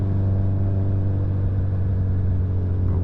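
A motorcycle, heard while riding with a Hayabusa, gives a steady, low engine drone that holds evenly throughout, with no clear rise in revs and no voices.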